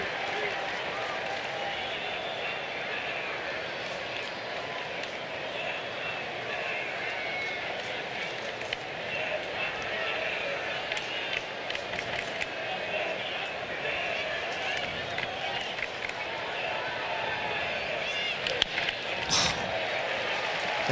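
A baseball crowd at a Royals vs Angels game makes a broad, steady murmur of noise and scattered clapping that swells slightly near the end, with a commentator talking over it.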